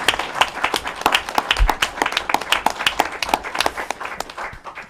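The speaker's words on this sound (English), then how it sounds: "Let's give them a round of applause." Audience applause at a New York governor's COVID briefing: dense, steady clapping from a room of people, close and moderately loud, lasting the whole stretch without talk.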